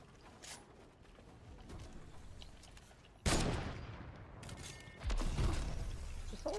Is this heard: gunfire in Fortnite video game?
yes